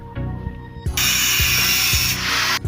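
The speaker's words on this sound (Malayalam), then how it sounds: "അപ്പോൾ നമ്മളത് കട്ട് ചെയ്യുന്ന വീഡിയോ ആണ് കാണുന്നത്" A power tool cuts a pipe into two pieces while a G-roller is being made, a loud continuous grinding and cutting whine close by, with rhythmic mechanical pulsing underneath, and no voices.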